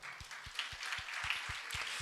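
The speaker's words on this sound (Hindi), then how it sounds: "ताली बजाओ" A church congregation claps, a rhythmic thumping beat of roughly four claps per second over a soft, diffuse wash of hands, quiet and somewhat distant.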